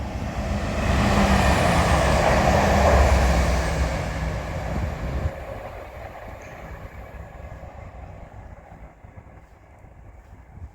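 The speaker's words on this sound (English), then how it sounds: "Is a Chiltern Railways doubled up Class 168, and yay, we got a refurbished 168 at the rear" A doubled-up Chiltern Railways Class 168 diesel train passes close by at South Ruislip with a loud, rushing roar that peaks early and then fades into a lighter, distant rumble as the train moves away.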